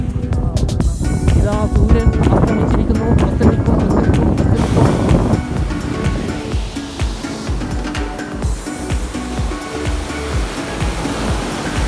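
Waves washing onto Kappil beach in Lakshadweep around sunset, with clear water: a loud, continuous rushing surf mixed with gusty wind noise on the microphone, with no pauses.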